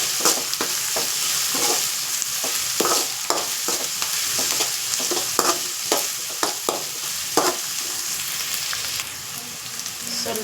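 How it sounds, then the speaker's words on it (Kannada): Onions fry in a pan on the way to golden brown for fried rice, a continuous sizzle broken by repeated scraping stirs at an uneven, quick rhythm, close and fairly loud, with no talking. "ಇದು ಈರುಳ್ಳಿ ಗೋಲ್ಡನ್ ಬ್ರೌನ್ ಆಗೋವರೆಗೂ ಸ್ವಲ್ಪ ಹುರ್ಕೋಬೇಕು"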